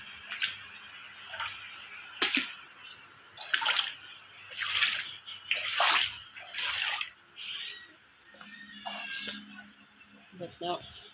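Water sloshing and trickling as floodwater seeps into a house, heard in uneven surges with voices talking over it throughout.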